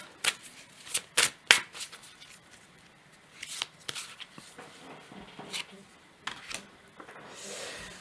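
Tarot cards are shuffled and drawn, with a quick run of crisp riffling bursts at the start and then scattered softer card slaps and slides, close by. A voice talks quietly at points.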